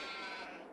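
A sheep bleats in a single sustained, fairly faint call in the Farming Simulator 22 video game, with no talk.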